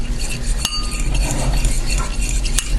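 A fork stirs vanilla into cookie dough in a bowl for a Hungarian kifli recipe, making a soft continuous scraping and mixing sound with a couple of sharp clinks against the bowl.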